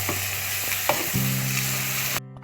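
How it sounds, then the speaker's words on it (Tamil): Onions and cumin sauté in oil in a pan with a loud, steady close sizzle and a few stirring scrapes, then cut off abruptly near the end. "வெங்காயம் கொஞ்சம் வதங்கணும்"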